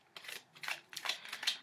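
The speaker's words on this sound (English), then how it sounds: "I have to shuffle extra well" Tarot cards are shuffled close by in four quick riffling bursts of papery swishes, evenly spaced over a second and a half, with no talk.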